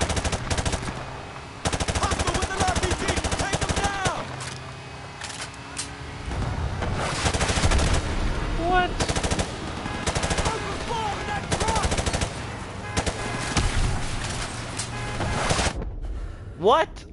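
Machine gun fire in Call of Duty: Modern Warfare comes in repeated rapid bursts over an ongoing battle din, with voices talking throughout.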